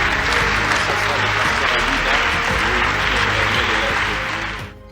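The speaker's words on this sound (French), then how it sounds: "on peut encore applaudir" A church congregation at a pastors' gathering in Kinshasa claps loudly and continuously, a dense wash of applause that fades out at the very end.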